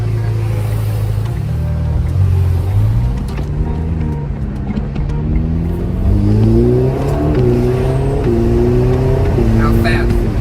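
A Ferrari Roma's engine climbs and drops in pitch as it accelerates, with several quick gear shifts marked by sudden steps in tone. It is loud and close, heard from the cabin.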